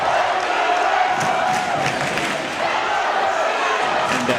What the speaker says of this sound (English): Needham fans cheering on the Rockets as they look to try and take this third set